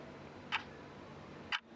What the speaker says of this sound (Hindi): अंधेरा है, सन्नाटा है, और टिक टिक करती हुई ये घड़ी है।